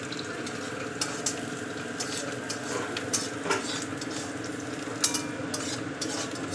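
Chopped onion and green chili frying in a pan, a steady low sizzle with occasional clinks of a stirring spoon against the pan throughout.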